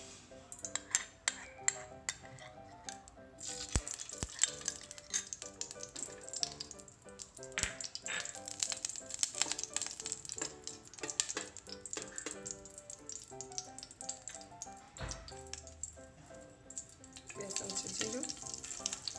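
Ghee sizzling and frying in a pan while making jeera rice, a steady crackling hiss running throughout with scattered clinks and taps of utensils, close and fairly loud.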